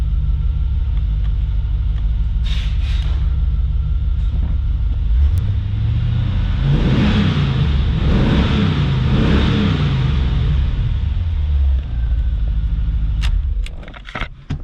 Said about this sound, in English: good sounding C4 Corvette